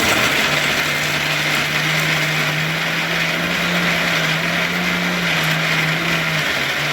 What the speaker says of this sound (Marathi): फायनली सगळं खोबरं की मिक्सरला लावून झालं आहे